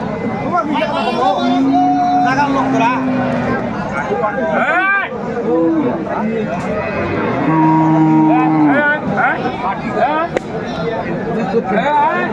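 Cows, some with calves, moo in long drawn-out calls twice at a busy livestock haat in Aftabganj, rising over a constant hubbub of crowd chatter and nearby talking.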